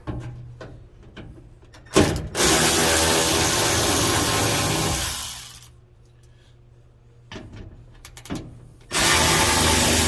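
A power tool removing the window regulator bolts inside the door of a 1973-79 Ford truck, running in two loud, sustained whirring bursts, with quiet clicks and handling noise between them.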